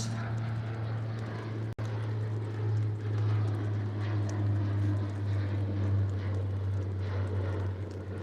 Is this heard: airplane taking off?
yes